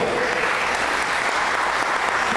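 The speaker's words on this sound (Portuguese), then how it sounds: "Dá um aplauso ao Senhor também" Steady, dense applause from a church congregation, a broad even wash of many hands clapping together without a break, loud and close.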